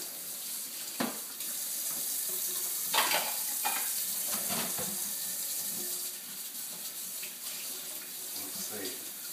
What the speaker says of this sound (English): Now we can do some dishes.